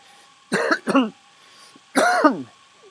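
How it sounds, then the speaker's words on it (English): Two quick throat-clearing bursts close to the mic, a pause, then one longer, harder throat clear; no talking. "I'm gonna clear my throat."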